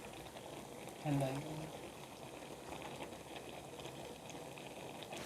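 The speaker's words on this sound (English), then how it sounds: "the bubbles are coming from around because it's really hot inside" Melted cheese bubbles softly in a hot pan with a low, steady sizzling simmer, and a brief louder pop or burble comes early on while a voice talks quietly over it.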